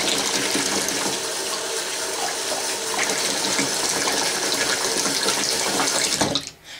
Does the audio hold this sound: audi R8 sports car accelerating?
no